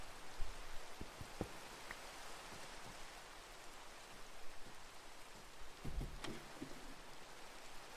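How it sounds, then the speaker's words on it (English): Steady rain falling in Minecraft, a continuous broadband hiss with a few scattered clicks and thuds, moderately loud and unbroken, with no voices. "Shut the rain off, for fuck's sake."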